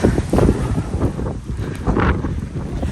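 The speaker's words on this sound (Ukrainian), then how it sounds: "Це сніг повіяло з даху вітром, бо на горі вітер більший." Strong mountain wind in Andorra blows snow off a roof, loud gusting buffets hitting the microphone in surges with no voices.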